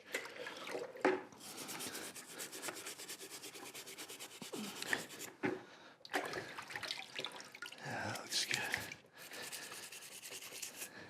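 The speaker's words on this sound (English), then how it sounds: "A little more scrubbing here." A rusty metal part is scrubbed steadily and close up, a continuous wet rubbing rasp with brief pauses and shifts in pressure, with no talk over it.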